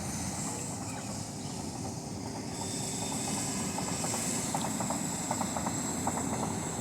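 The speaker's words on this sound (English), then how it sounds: "Oh, the distant train" A distant train rumbles steadily beyond rain-soaked surroundings near Jagatpura, a continuous low roar with faint rhythmic clatter of wheels, far off and unbroken under birdsong.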